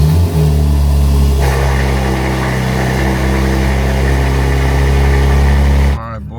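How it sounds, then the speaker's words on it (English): A BMW M3 engine idles loudly after a cold start, a steady deep drone with a low fast-idle hum that shifts slightly partway through before cutting off abruptly near the end. "Round 2 of the cold start."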